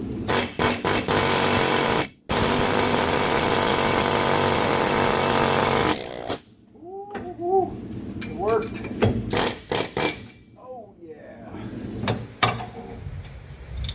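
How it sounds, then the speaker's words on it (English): A loud, continuous air hammer rattles for several seconds, stops briefly, resumes, then gives way to shorter bursts and clanks as someone speaks, during a Dodge Ram 3500 rear differential rebuild. "now we're going to push this out of here with an air hammer"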